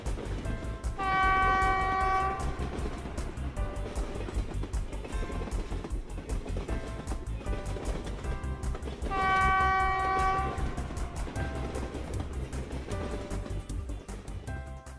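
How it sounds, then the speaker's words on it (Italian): A cartoon train in a Paw Patrol children's game rolls steadily with rhythmic clacking and sounds a loud sustained horn twice, with no talking over it. "Guarda, è un treno!"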